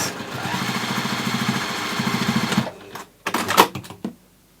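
Sewing machine stitching a continuous straight seam on a fabric nesting gift basket, a steady rapid mechanical whir for a few seconds before it stops, followed by quieter handling clicks and rustles.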